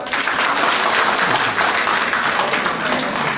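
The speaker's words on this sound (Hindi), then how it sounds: "तालियां बजाओ" A seminar audience breaks into applause, loud sustained clapping from many hands with a slight swell and dip in intensity.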